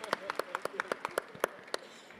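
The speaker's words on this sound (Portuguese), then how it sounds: "Uma salva de palmas." Audience at a Rio book fair panel claps in a brief, sparse burst, a dozen or so distinct hand claps spaced irregularly, fairly faint and fading out after about two seconds.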